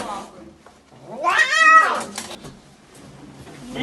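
A runaway cat being caught and held cries out with one loud, drawn-out yowling meow rising and falling over about a second, between quieter stretches of handling noise and nearby voices.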